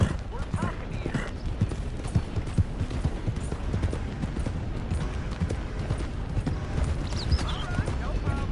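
Horse hooves clip-clop steadily in a Red Dead Redemption 2 game scene, a brisk continuous rhythm at moderate loudness under faint background game sounds.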